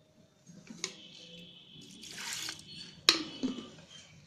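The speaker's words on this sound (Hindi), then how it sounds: "अब थोड़ा सा पानी डालेंगे क्योंकि हमारे बथुआ भी पानी छोड़ेंगे" Water poured into a pressure cooker holding bathua leaves in a home kitchen, a few quiet splashes and trickles with a sharper clink of metal near the end, close and otherwise still.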